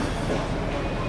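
A locomotive rumbles along steadily with a dense, continuous roar of rolling wheels and rail noise, loud and close throughout.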